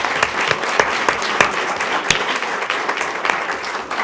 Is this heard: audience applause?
yes